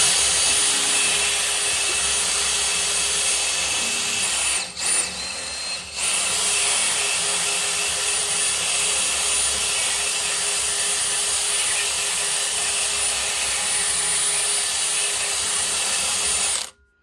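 A power tool fitted with a disc grinds rust off the rear radius arm of a Land Rover Defender Td5. The close, loud, steady grinding briefly dips partway through, then cuts off at the end.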